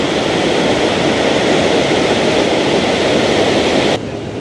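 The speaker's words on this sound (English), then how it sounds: "As you can see, it's not a very calm river." A rough, fast-flowing river, not at all calm, with a kayaking path on the far side: a loud, dense, unbroken roar of rushing water close by that drops sharply in level near the end.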